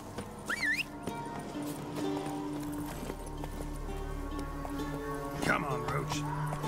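Roach, Geralt's horse in The Witcher 3, with rhythmic hoofbeats and a neigh over ambient game music, while a person talks over parts of it.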